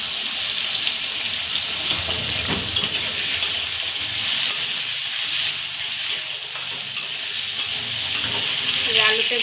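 Potatoes fry in hot spiced oil with a dense, continuous sizzle, loud and close, broken by occasional scraping stirs throughout.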